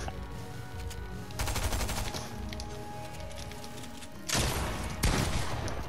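Rifle fire in the video game Fortnite comes in rapid bursts, with a long volley early on and two more loud volleys near the end, separated by quieter game background.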